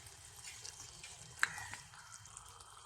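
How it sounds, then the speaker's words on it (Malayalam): Chicken curry is stirred in a pan, a faint soft sizzle with a few light scrapes and one sharp clink of a spoon against the pan, quiet and without speech. "തുറന്നിട്ട് നമുക്കിതൊന്ന് ഇളക്കി കൊടുക്കാം."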